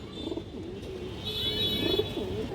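A pigeon coos softly in low, rolling phrases over a steady background hum, with faint chirps nearby.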